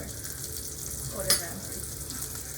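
Portuguese sausage sears in a hot pan with a steady, close sizzle and fry, broken once by a brief sharp clink or scrape of a utensil midway.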